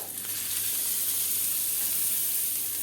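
Hot oil tempering of mustard seeds, hing, sesame seeds and curry leaves poured over a raw mango chutney, giving a steady close sizzling hiss with no voices.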